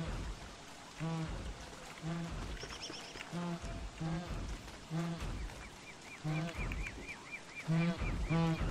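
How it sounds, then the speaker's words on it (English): Moose goose from the game Don't Starve honks in repeated loud calls roughly every second, under game music and effects with someone talking over it. "Fight the moose goose."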